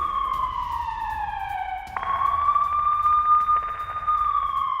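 An air raid siren in Ukraine sounds a loud electronic tone that slides downward, jumps to a new pitch midway and holds a sustained wail, with faint background noise and no talking.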